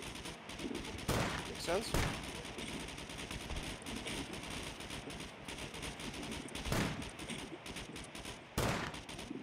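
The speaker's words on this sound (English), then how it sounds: "people are shooting right over me" Sustained gunfire in the survival video game Scum, rapid shots cracking overhead, with several louder bursts standing out, under a voice speaking briefly.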